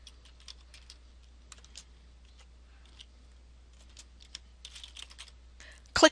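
Keys tap on a computer keyboard as a name is typed, with light irregular clicks in short bursts and a sharper clatter at the end, close and quiet.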